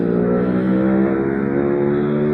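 A motorbike engine going by, a loud, steady droning hum that holds close and even for the whole stretch, with no voices over it.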